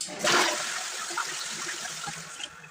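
Household toilet flushed after a cleaning tablet is dropped in the bowl, a brief rushing surge of water followed by a softer swirling drain, close and quiet, with no talk.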